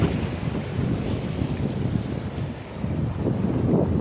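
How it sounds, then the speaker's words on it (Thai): Sea waves wash steadily onto Cha-am beach in the afternoon while wind buffets the microphone, a continuous, fairly loud roar with gentle surges and no voices. "ทะเลตอนบ่ายสองฮะ"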